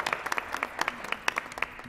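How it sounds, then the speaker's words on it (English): Scattered applause from a small audience, quick irregular claps rising and falling for a couple of seconds, fairly close and moderately loud. "if everybody would give them a round of applause"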